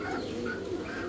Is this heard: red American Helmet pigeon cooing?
yes